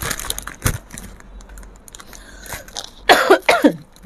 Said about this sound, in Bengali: এত কাশি।